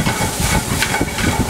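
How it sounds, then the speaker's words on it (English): Minced garlic dropped into hot extra virgin olive oil in a heated pan, giving a loud, continuous close sizzle and hiss with no voices. "add our minced garlic"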